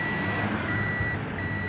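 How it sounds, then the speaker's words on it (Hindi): Toyota Aqua hybrid car reversing, its reversing beeper giving steady repeated tones over a low engine-free hum, fairly close and clear with no talk. "तो अब हम इसको थोड़ा सा रिवर्स करते हैं"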